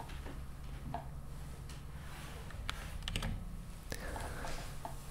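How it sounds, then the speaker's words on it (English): Keystrokes tapped on a computer keyboard while setting a shortcut in a Mac mouse customization app, a few scattered clicks and short bursts over a steady low hum, close and fairly quiet, with no talking. "type in the keyboard shortcut you want."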